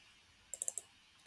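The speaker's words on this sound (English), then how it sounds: "Click on it, double click on it" A computer mouse gives a quick run of sharp, close clicks, two double-clicks in rapid succession, against a quiet background.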